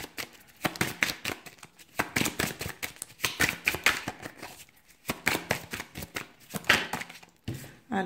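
Tarot cards being shuffled up close, a quick series of papery riffling and slapping bursts in uneven clusters, with brief pauses between rounds.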